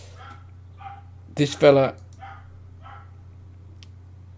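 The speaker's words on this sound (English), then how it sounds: "that's not even my dog barking this time. It's next door." A neighbour's dog barks next door during a Football Manager 2020 session, a short burst of two or three loud barks heard from nearby, with someone talking before and after over a steady low hum.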